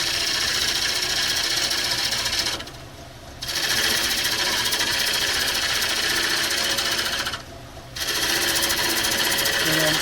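Hickory bowl spinning on a wood lathe at about 900 RPM, a steady loud broadband whirring and scraping from the cutting tool, broken by two short quieter gaps where the cut lifts off.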